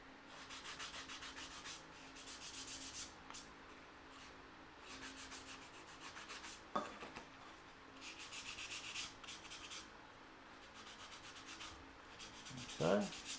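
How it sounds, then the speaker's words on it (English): Hand sanding of a wooden frame-and-panel lid with sandpaper: quiet, steady back-and-forth rasping strokes in a regular rhythm, close but faint, with a couple of small knocks. "Sand off the furry bits."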